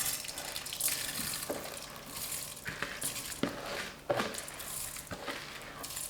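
Soaked brown, black and red rice being rinsed and stirred by hand in a bowl of water, with soft sloshing and swishing splashes in irregular bursts, close and fairly quiet.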